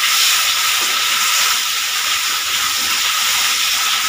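Chili sauce poured into a hot pan of lightly fried onions and capsicum sets off a loud, steady hiss of steam and sizzling that holds without a break.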